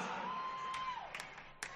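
A television studio audience cheers and whoops for a singer, a steady crowd roar with a few sharp shouts rising above it, moderately loud and without clear speech.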